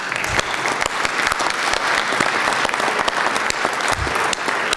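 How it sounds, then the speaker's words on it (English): An audience at a town meeting claps in sustained, dense applause throughout, loud and close. "I'm going to applaud you."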